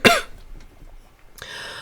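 A woman coughs once, sharp and loud at close range, followed by a quiet pause and then a rustle of breath or movement.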